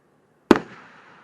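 A single firework assassin mortar going off outdoors: one sharp, loud blast with a crackling tail that fades away within about a second, heard on its own.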